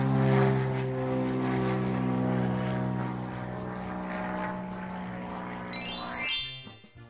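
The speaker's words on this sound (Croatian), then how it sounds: "Avion u toku putovanja leti na velikim visinama." A steady propeller-aircraft drone with strong harmonic hum, loud and continuous, followed near the end by a rising whine as it fades.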